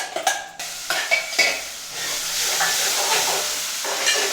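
Spoon scraping and stirring tomato, ginger and garlic paste with coriander powder and chili in a hot pan, a few sharp knocks at first, then a steady close sizzle and hiss.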